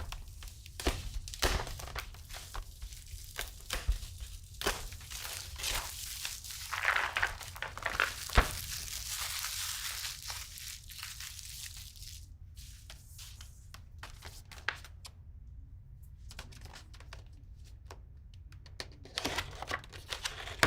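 Sealed plastic packaging of a GMK keycap set being torn open and handled, close crinkling and rustling with scattered sharp crackles and tearing sounds throughout.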